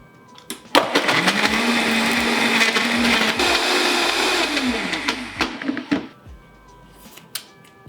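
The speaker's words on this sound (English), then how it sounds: "And that's it, I'm gonna blend it. Mind your ears." A kitchen blender whirs loudly through a hot chocolate cocktail made with hot chocolate mix, starting abruptly with a steady motor whine that runs about five seconds and then cuts off, followed by a few clunks.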